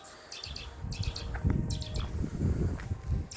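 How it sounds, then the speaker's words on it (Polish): Birds chirp inside an abandoned sanatorium in Gdynia Orłowo, several short high tweets in small clusters, with footsteps and rustling close by underneath. "Jakieś ptaki nawet."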